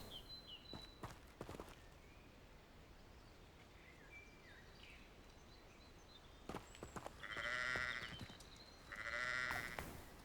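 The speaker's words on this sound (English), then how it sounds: "Some sheep." Sheep bleat twice in a video game set at an estate, where a candle trial waits. The bleats come late and sound moderately loud over a quiet, hissy background, after a few light earlier clicks and footstep-like taps.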